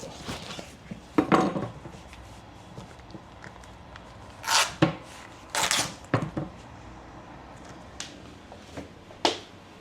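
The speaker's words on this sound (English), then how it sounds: "why did you cut the bacon in half?" Bacon being cut in half in a home kitchen: sharp knife taps and clatters of utensils on a board, scattered irregular clicks and thumps with quiet gaps between, no talking.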